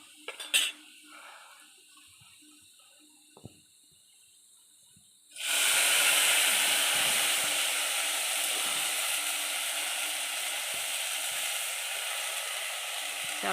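Leafy greens drop into garlic cloves frying in hot oil, setting off a sudden loud hiss and sizzle that holds steady and close, after a quiet opening with a few light clinks of utensils.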